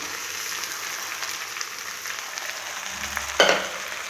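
Cooked rice and vegetables fry in a hot pan with a continuous close sizzle and stirring scrapes, then a sharp clatter near the end as more food or a utensil hits the pan.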